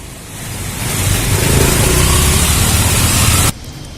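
Heavy rain pouring down in Bengaluru, a steady broadband roar that swells slightly and holds loud for several seconds before cutting off abruptly near the end.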